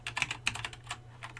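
Quick bursts of typing on a computer keyboard, with close, soft clicking keystrokes in an uneven rhythm over a quiet background.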